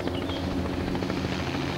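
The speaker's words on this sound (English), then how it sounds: "You can hear the helicopter coming in from behind." A helicopter approaches from behind over Anacapa Island, its rotor thumping as a dense, steady roar that fills the whole clip, loud and close with no voices over it.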